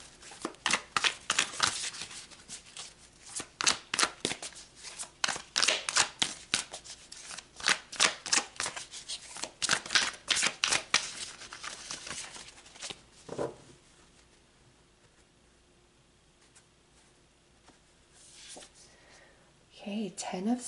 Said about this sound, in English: So let's pull some more cards, Virgo.